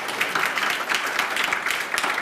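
An audience at a game developer talk applauds steadily, a dense patter of many hands clapping at once, moderately loud throughout.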